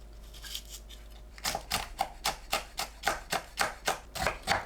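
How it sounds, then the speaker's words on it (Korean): Cheongyang chili peppers are finely chopped with a knife on a cutting board, a close, steady series of crisp rhythmic knocks that starts after a second of quiet room hum and continues evenly with no talk. "청양고추를 작게 썰어줍니다."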